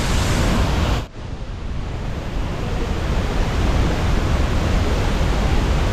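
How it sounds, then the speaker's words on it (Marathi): Thoseghar waterfall in Satara pours down in a loud, steady broadband roar, heard close by and without a break apart from a brief dip near the start, with wind and no speech. "सातारच्या ढोसेकर धबधब्याला विजिट करायला विसरू नका अतिशय सुंदर असा धबधबा आहे"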